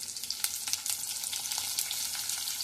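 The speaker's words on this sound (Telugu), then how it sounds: "ఉల్లిపాయ, బంగాళదుంప, పచ్చిమిరపకాయ, కరివేపాకు వేయించుకోవాలి" Onion, potato, green chili and curry leaves frying in a pan for drumstick masala curry, a dense, close sizzle with bursts of crackle and spatter, no talking.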